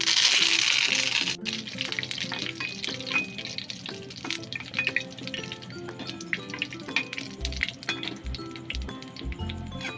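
Curry leaves and mustard seeds sizzle and crackle in hot oil, with sharp pops, occasional clinks of a utensil and a steady frying hiss throughout.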